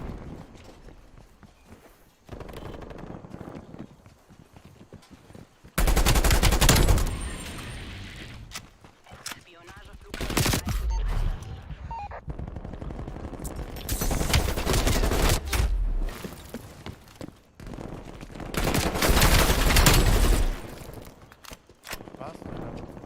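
Gunfire in the video game Call of Duty Cold War / Warzone: bursts of loud rapid shots come in several blocks, separated by quieter stretches, with a person talking over the game.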